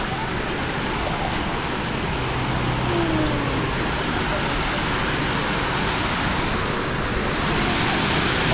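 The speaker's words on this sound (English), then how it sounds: "this little waterfall here keeps the birds inside, so we go through another waterfall" Waterfall pouring into the lazy river at Discovery Cove in Orlando, a steady broadband rush of splashing water close by that holds evenly throughout with no break.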